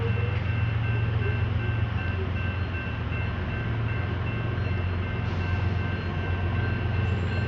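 A BNSF freight train rolls past close by, a steady heavy rumble and clatter of wheels on rail that continues without a break throughout.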